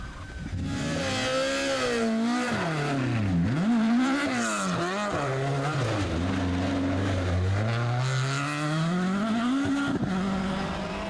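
A 2-litre Ford Escort rally car, two-wheel drive, powers along a stage at an Irish national rally in Skibbereen, its engine loud and close, revving up and down through gear changes with sustained high-rpm howl throughout.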